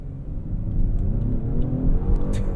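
A Genesis G90 all-wheel-drive luxury sedan in sport mode accelerates hard from a standstill, its steady engine rumble and road roar heard from inside the cabin without pause.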